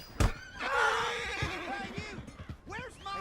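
A horse in Red Dead Redemption 2 lets out a loud, close whinny that rises and wavers, with a brief hoof thud at the start and quieter snorting afterward.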